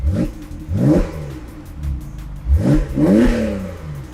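A Porsche 991.2 Carrera GTS engine revs hard twice through its sport exhaust, rising and falling in pitch, with a low idle rumble between the bursts.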